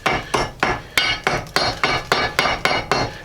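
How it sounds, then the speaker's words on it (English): A small ball peen hammer tapping on a rusted Jeep Cherokee XJ hub to knock off flaking rust, about a dozen sharp metallic knocks in a steady rhythm, close and fairly loud, with no talking. "Little ball peen hammer, and start going around all the places where it's like flaking off."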